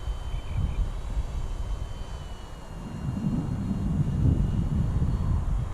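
A 6s-powered EDF glider climbs out after a ground-launch takeoff, its broadband ducted-fan rush steady and fairly loud, swelling stronger through the second half amid some wind noise.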